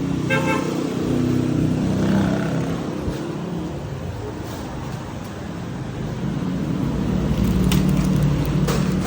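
A vehicle engine runs steadily close by, a low rumbling drone with faint mechanical whine and no talking.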